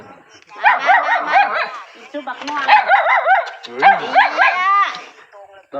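A dog at a village house barks close and loud in repeated bursts of yelping barks, with short pauses between them and a person's voice mixed in.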